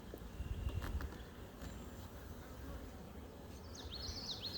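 Honeybees buzzing around open hive frames during a beehive inspection, a dense close drone with some louder swells, faint outdoor background, and a bird chirping briefly near the end.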